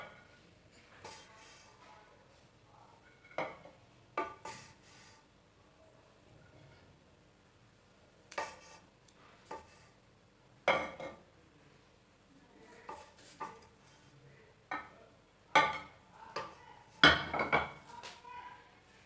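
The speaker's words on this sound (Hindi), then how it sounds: "पुलाव को करते हैं डिश आउट।" Spoon and ladle clatter against a metal pot while Kabuli pulao is served, a series of sharp scraping clinks spaced irregularly, with quiet gaps between them.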